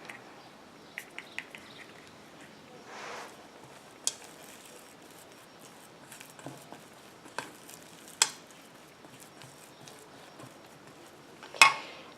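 A solid dog shampoo mixture is stirred with soft, sparse scraping and clinking strokes, quiet and intermittent, with a few sharper taps against the container.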